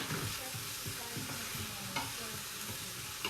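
Onions sizzle in a pan with a soft, continuous crackle broken by repeated scraping stirs, fairly quiet and close, with no talking.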